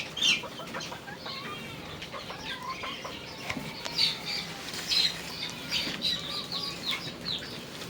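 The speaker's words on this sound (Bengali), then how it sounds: "দানা মানে খেতেছে মুরগি বাচ্চা কটা" Young chicks pecking at scattered grain, with faint repeated cheeps and squawks coming in short bursts over a quiet background, no talk.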